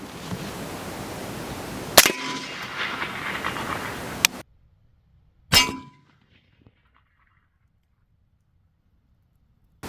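A 5.56 green tip rifle round strikes a Level III+ RTS Tactical Mini Shield, producing a sharp, loud clang over background noise, followed by another metallic crack, then near silence.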